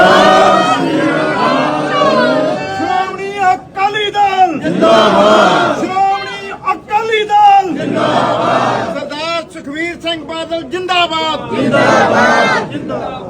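A large political crowd in Punjab roars the Sikh jaikara response to 'Bole So Nihal' in loud, drawn-out collective shouts that rise and swell repeatedly, with mixed voices and chanting blending together.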